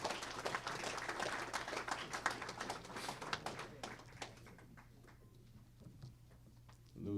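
Applause from an audience at a Long Island veterans recognition ceremony, a steady patter of clapping that thins and fades toward the end, with a steady low hum beneath.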